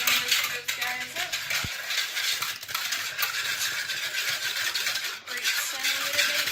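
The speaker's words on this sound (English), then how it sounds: "So you continue whisking until you get kind of a pale yellow mixture." Six egg yolks whisked with a quarter cup of sugar, giving a continuous brisk metallic clatter of a whisk against a bowl, close and fairly loud, with brief pauses and a voice talking over it.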